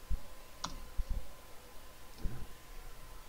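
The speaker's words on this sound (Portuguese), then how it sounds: "Então posso digitar ou posso clicar e arrastar com o mouse." A computer mouse clicks a few times while selecting cells in an Excel spreadsheet, giving faint, sparse, irregular clicks in a quiet room.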